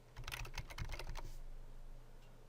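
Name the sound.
typing on a computer keyboard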